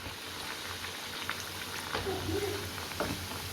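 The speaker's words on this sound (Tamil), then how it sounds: "அந்த எண்ணெயோட சலசலப்பு எல்லாமே அடங்கினதுக்கப்புறம் நம்ம சூப்பராக வந்து ரெடி ஆகிடும்" Paruppu vadai, a lentil fritter, frying in hot oil as an evening snack, with a steady broadband sizzle and bubbling that runs throughout, close and moderately loud, with a few brief clinks and scrapes on top and no speech.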